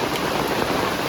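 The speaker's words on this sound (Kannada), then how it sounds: "ಈಗ ಅಂಗಳೊಮ್ಮೆ ನೋಡಿ ಮಳೆ." Monsoon rain pours onto a home courtyard, a close, constant wash of drops with no break and no voices.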